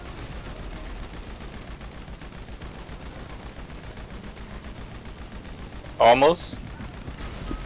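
Gunfire in Grand Theft Auto Online, with a low, steady rattle of distant shots under much of the stretch and then a louder, brief burst of firing near the end, while players talk over it.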